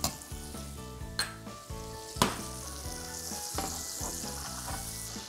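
Prairie Farms butter melts and sizzles in a hot French skillet, a steady close frying hiss with a few sharp clinks of a utensil against the pan, heard alone.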